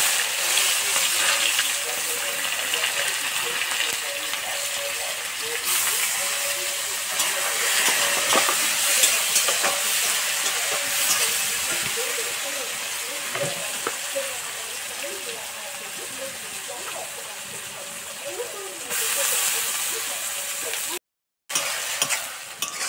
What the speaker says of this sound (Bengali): বন্ধুরা এটা পেঁয়াজটা আমাদের লাল করে ভাজা হয়ে গেছে।